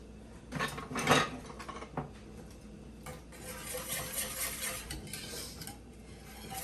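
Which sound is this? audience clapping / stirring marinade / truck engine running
stirring marinade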